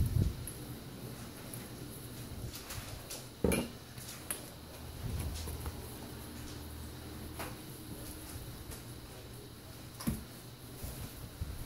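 Two seasoning-coated ingredients are stirred together in a bowl for a pork chop recipe, giving soft, close scraping and clinking of a utensil against the dish, with a few sharper knocks scattered through and no talk.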